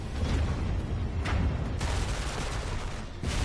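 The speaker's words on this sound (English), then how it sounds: "So it does have a cannon." A cannon fires in a Stellar Blade boss fight, sounding as a dense barrage of booming blasts with sharp cracks that layer over a constant roar of loud combat noise.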